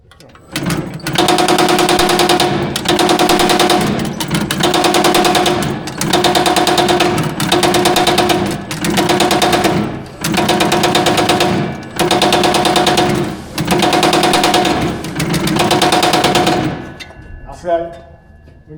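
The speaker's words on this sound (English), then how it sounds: "we're gonna get the next person running the hammer." A Baileigh power hammer pounds a sheet-metal fender, its rapid mechanical hammering running loud and close in repeated bursts of about a second each, separated by short pauses, then stopping near the end.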